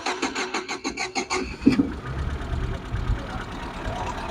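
A Zhiguli car engine cranks with a rapid rhythmic starter whirr for about a second and a half, then catches and settles into a rough, close idle that runs to the end.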